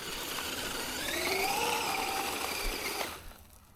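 A Traxxas UDR RC truck drives with a steady high-pitched electric motor whine that rises in pitch and then cuts off abruptly near the end, fairly close and with no talk.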